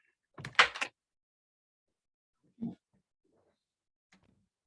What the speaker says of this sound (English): I'm just going to close my door here